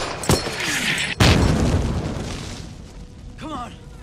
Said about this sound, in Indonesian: setelah sebuah peluru mortar mendarat tepat di sebelahnya